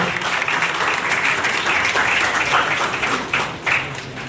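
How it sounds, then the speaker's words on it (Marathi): Sustained, dense applause from an audience at an award ceremony in Maharashtra, loud and steady throughout with a few sharper surges near the end. "जोरदार टाळ्या हा देव माणसासाठी होते"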